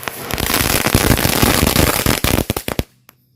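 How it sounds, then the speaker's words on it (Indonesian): A full pack of dino egg firecrackers (mercon telur dino pretek) goes off in a dense, loud rapid crackle, then thins into a few last separate bangs before stopping. "selanjutnya ini kita nyalakan mercon telur dino pretek. Satu pak sekaligus"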